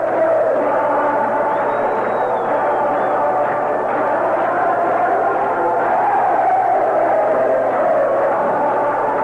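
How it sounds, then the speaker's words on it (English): A baseball crowd roars steadily after a 4-1 White Sox victory over the Rangers, heard through an old radio broadcast. The cheering is sustained and dense, with whoops rising out of it. "Listen to this crowd."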